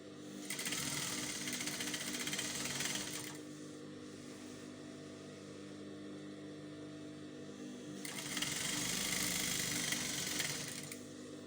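A sewing machine stitches a seam on a cowl kaftan gown in two fast, whirring bursts separated by a quieter hum, close and steady.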